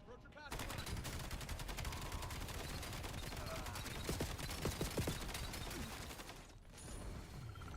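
Rapid assault rifle fire in the shooter game Black Ops 7, a dense, steady stream of shots for several seconds, quiet overall and in the background, with a few heavier thuds mixed in.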